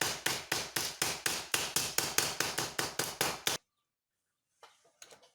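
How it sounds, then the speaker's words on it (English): A hammer strikes a bent clutch plate in a rapid, steady series of about fifteen sharp metallic blows, loud and close, then stops, leaving only a few faint clinks. "the plate was a little bit bent, so we're gonna have to straighten it out with a hammer"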